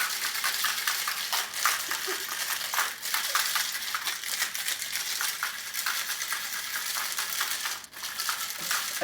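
Ice rattling inside a cocktail shaker being shaken for a Cosmopolitan: a continuous, fast, bright clatter that goes on for about nine seconds, close and fairly loud, with no speech.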